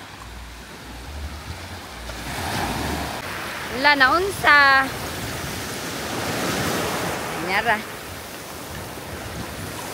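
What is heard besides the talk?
sea waves on the shore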